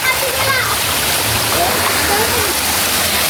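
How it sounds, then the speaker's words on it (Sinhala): A stream's water rushes and splashes steadily, loud and close, with faint voices talking underneath. "ඔහෝ වතුරේ පාර යන්නේ හරියද"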